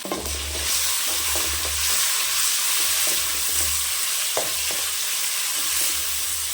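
Tomato fries in a pan with ginger-garlic paste for mushroom gravy, giving a loud continuous sizzle with repeated scraping stirs and occasional spoon knocks against the pan.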